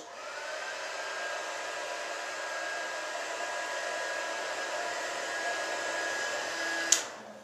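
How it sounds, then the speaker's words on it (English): A hot air gun blowing steadily up close to dry ink on a handmade card, a continuous even whoosh with a faint whine that cuts off with a click near the end. "I'm just going to blast that off with the um, hot air gun."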